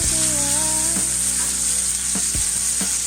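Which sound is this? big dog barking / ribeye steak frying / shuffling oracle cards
ribeye steak frying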